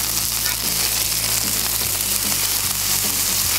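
Slider patties sizzle on a Blackstone flat top griddle just after being flipped, giving a steady, close, loud hiss with a low hum beneath it throughout.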